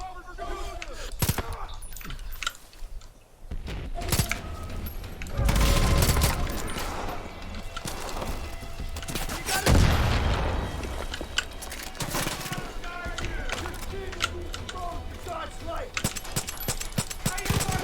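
Gunfire in Far Cry 5: rapid bursts and single sharp shots crack repeatedly across the whole stretch, loud and close, with heavier blasts partway through and voices speaking over the shooting.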